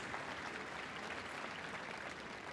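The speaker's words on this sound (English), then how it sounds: "can we have a big round of applause for our brilliant Royal Kennel Club Dog Activities Display Team?" Spectators at the Crufts 2025 dog show applaud the Royal Kennel Club Dog Activities Display Team, a steady, fairly faint and distant wash of crowd clapping in a large arena.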